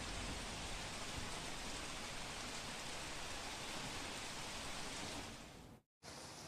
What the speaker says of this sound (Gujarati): છેલ્લા દોઢ કલાકથી ધીમી ધારે વરસી રહ્યો છે વરસાદ